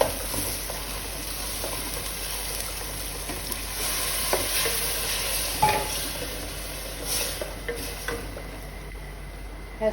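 Tomato paste fries in oil for Iraqi qeema, a steady soft sizzle with occasional spoon stirs and light clinks against the pot, fairly quiet and continuous with no talk.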